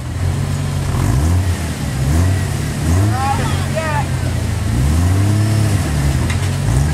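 Car engine revving loudly in repeated rising pulls while driving, close and continuous, with people shouting and cheering over it.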